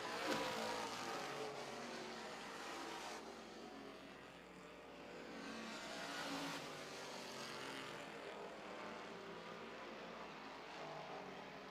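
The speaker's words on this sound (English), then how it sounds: "Lakota now trying to put a lap on Snover. Man, that car is fast" Race cars roaring around a track on the final lap, a sustained engine drone that swells and fades as cars pass by at a distance, fairly faint, with no talking.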